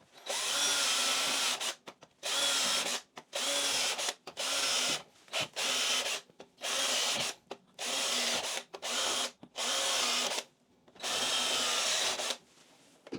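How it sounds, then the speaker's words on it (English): A power drill bores a series of holes into the wall around a cold window, running in loud bursts of a second or so separated by short pauses, close by with no talking. "I've gone through and drilled out multiple holes."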